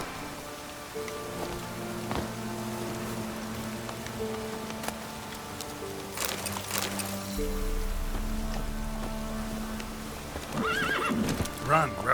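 Roach the horse gallops in The Witcher 3: Wild Hunt, steady clip-clop hoofbeats with whinnies and neighs near the end, over game music and light rain, while someone talks to the horse.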